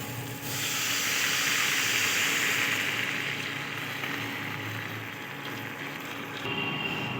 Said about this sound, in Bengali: নেওয়ার পরে এবার আমি আস্তে করে জল ঢেলে দেবো।